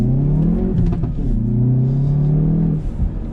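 Hyundai i30 N engine revving with exhaust pops and cracks, a loud, close droning rev that climbs and holds, then drops off with crackling bursts near the end.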